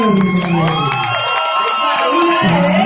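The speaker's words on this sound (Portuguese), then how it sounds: "eu queria pedir uma salva de palmas do público" A large crowd cheering and whooping loudly, with scattered clapping and music blaring over the noise.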